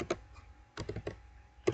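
Typing on a computer keyboard while entering router configuration commands, a few close, light clicky keystrokes in short clusters with brief gaps between them.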